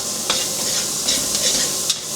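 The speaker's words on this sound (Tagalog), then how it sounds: "Gisa-gisa na natin ng sibuyas." Onion and ginger sauté in a hot pan for pork afritada, a steady sizzle and crackle of frying with occasional scrapes of a spoon stirring, close up and with no voices.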